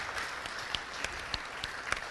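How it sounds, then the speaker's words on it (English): A brief patter of applause rises at a city council meeting, faint and somewhat distant, with a few sharper individual claps standing out over the steady wash. "We have a round of applause, please."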